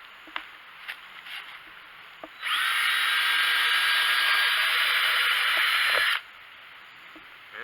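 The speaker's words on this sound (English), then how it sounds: "Right now I'm using a 3/16 drill bit to put the holes in." A handheld power drill bores holes for a small raised garden bed with a 3/16 drill bit, whirring loudly and steadily for about four seconds after a few faint knocks, then stopping abruptly.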